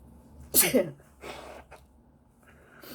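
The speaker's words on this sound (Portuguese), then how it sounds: "Lá vou eu espirrar." A single loud sneeze from a teacher during an online philosophy lesson, a sharp burst followed by breathy exhales and a brief spoken murmur, close to the microphone in a quiet room.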